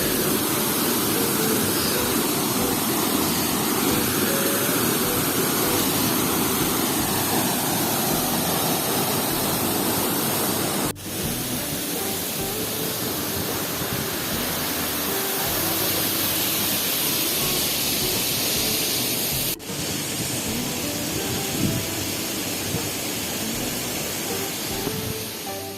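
Sajikot waterfall in Pakistan roaring steadily as a continuous broadband rush of falling water, loud and close, with two brief dips in level partway through and no speech.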